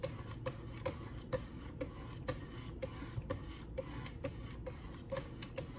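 A rat-tail rasp being sharpened on 600 grit stones, rubbed in steady repeated strokes with a soft scraping rasp and regular short pulses, close and fairly quiet, with no voices.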